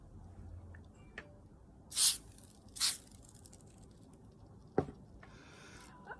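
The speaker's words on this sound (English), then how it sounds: "I use spray starch." Spray starch is misted onto fabric bias strips in two short, crisp hissing bursts about a second apart, with faint handling noises around them in an otherwise quiet room.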